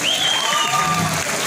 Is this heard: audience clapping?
yes